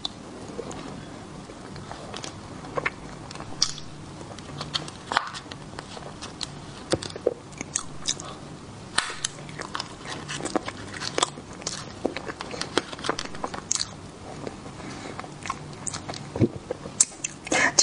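Close, crisp bites and chewing on a pure-meat, starch-free grilled sausage, a steady run of wet crunchy mouth sounds lasting well over fifteen seconds with no talking.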